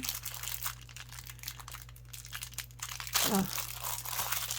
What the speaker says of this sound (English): just cut the bag open